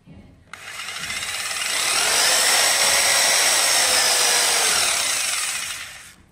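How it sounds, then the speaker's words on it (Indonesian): Bosch GBH 2-26 DRE rotary hammer drill switched to reverse rotation, spinning up with a whirring motor whine that rises, holds steady and winds down near the end, close and alone. "Ini putarannya bisa kita atur switchnya berlawanan arah."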